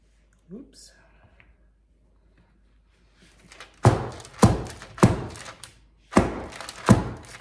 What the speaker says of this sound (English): Just kind of give it a good bang so you don't have any air bubbles.